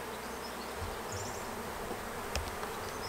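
Honey bees at a hive produce a soft, steady hum with an occasional louder pass of a nearby bee.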